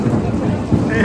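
Heavy rain with thunder and lightning near Simhachalam temple in Vizag, India: a dense, steady roar of rainfall with low rumbling swells, continuous and loud throughout.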